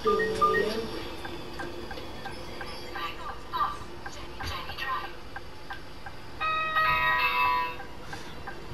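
Two-tone ding-dong door chime on a licensed bus in the Bus Simulator 21 game, ringing near the start and again around the seventh second over steady engine hum, with a person talking throughout.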